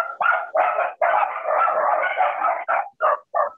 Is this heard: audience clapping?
no